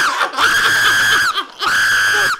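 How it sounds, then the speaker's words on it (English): A person screams in fright, letting out two long, loud, close-up shrieks separated by a brief gap. "Stop screaming!"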